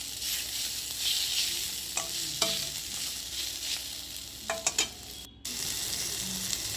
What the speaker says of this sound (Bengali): তো দেখুন কুঁদরিগুলো আমার ভাজা হয়ে গেছে